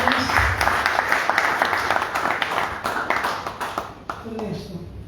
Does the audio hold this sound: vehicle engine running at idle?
no